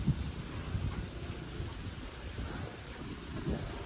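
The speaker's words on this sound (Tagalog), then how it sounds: "Lakas na naman ang hangin." Strong wind gusting outdoors at a rural water-fetching spot, a steady low rumbling roar buffeting the microphone with no talk over it.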